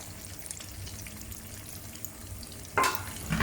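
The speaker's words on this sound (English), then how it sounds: "The second round of deep frying removes all the moisture on the surface, turning it into a crispy crust without overcooking the chicken." Pieces of popcorn chicken deep fry in hot oil with a steady close sizzle and bubbling, which flares up louder near the end as more pieces go in or get stirred.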